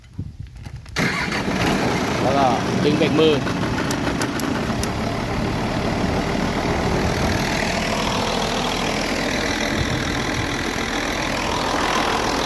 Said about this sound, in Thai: สตาร์ทเครื่อง วิ่งน้ำได้เลยนะครับ